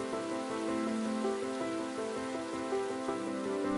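Heavy nighttime rain in an animated Vietnamese folktale film: a steady, even wash of rain noise runs throughout, layered with sustained musical tones, with no voices.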